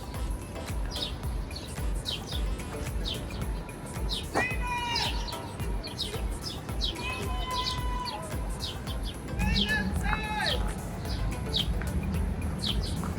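Sparrows in New York City give short scattered chirps and tweets, some close and some further off, over a low murmur of ambient city noise.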